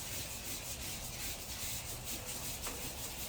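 Cloth rag rubbing across freshly sanded wood to wipe away dust, a steady, continuous soft scrubbing hiss at close range with no talk.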